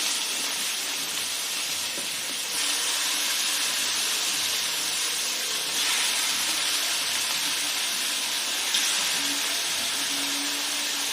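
Onions and chicken for a chicken curry fry in a pan with a steady, dense sizzle that stays loud and close throughout, with slight surges as the food is moved.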